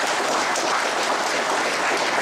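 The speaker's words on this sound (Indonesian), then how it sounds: "saya ajak saudara memberikan aplaus terima kasih" Steady, dense applause from the audience at the closing session of the 2014 Ikadin national working meeting, a continuous loud wash of many hands clapping with no pauses for its whole length.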